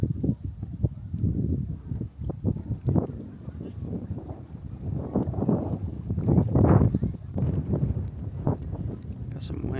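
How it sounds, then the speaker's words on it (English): Gusty wind blowing across an open lakeside on a cold, rainy autumn afternoon at Pinecrest, California, a steady rumbling buffet against the microphone with louder gusts, heard up close with people talking over it. "Got some wind going on."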